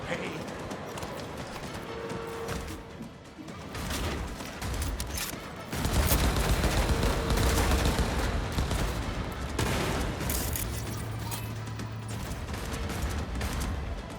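Turret gunfire rattles in dense, sustained bursts during Cyberpunk 2077 Phantom Liberty gameplay on PS5. It is loud and packed within a busy game mix, with voices talking over it.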